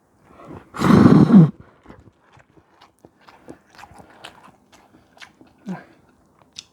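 Samyang yeolmu bibimmyeon, a cold Korean noodle dish, is eaten close to the mic: one loud burst of slurping or chewing near the start, then soft, scattered mouth and chewing clicks and a brief smack later on, with no talk.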